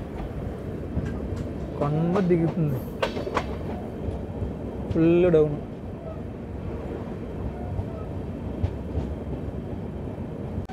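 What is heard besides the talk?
Kakinada Port–Bhavnagar superfast express train running downhill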